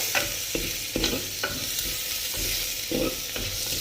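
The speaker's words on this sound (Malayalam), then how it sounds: "ഇതൊരു ചെറിയൊരു ബ്രൗൺ ഷെയ്ഡ് ആകുന്നത് വരെ നമുക്ക് ഇളക്കിക്കൊണ്ടിരിക്കണം" Potato thoran stirring and frying in a pan until it browns, with steady sizzling and a series of spoon scrapes and clinks repeating through it, close and fairly loud, with no one talking.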